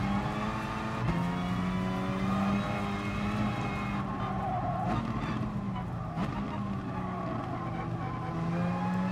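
A front-wheel-drive Renault Megane race car at Bathurst in GT Sport holds a loud, continuous engine whine that rises and falls with gear changes, with tyre squeal mixed in and no voices.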